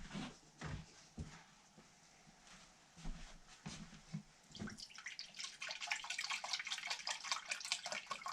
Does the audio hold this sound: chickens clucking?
no